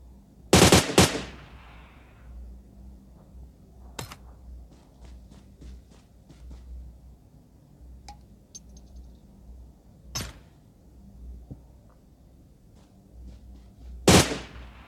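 Gunfire in a battle royale video game: a loud, close burst of rapid shots at the start, scattered single cracks through the middle, and another sharp burst near the end, with quiet stretches between.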